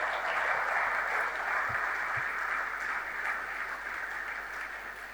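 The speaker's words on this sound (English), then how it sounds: "I would like us to give a round of applause to Sterling Bank." Steady applause from a crowd at a football club jersey unveiling event, a broad, even wash of clapping heard at moderate distance.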